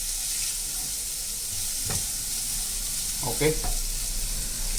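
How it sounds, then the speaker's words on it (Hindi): Onions sautéing in a pan for egg poha give a steady close sizzle, with a few brief stirring scrapes partway through and a short spoken word. "तो next our thing is to saute these onions."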